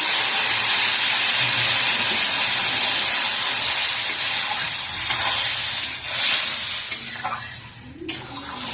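Water poured into a hot pan of okra curry sets off a loud, broad steaming hiss that fills the clip, easing slightly toward the end with a brief clatter near the close.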